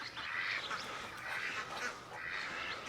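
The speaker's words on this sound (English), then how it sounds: "All the chickens and ducks leaving the coop." Backyard ducks, including Muscovies, and chickens leaving their coop in the morning, with a steady chorus of overlapping quacks and honking calls at moderate distance, fairly faint and without talking.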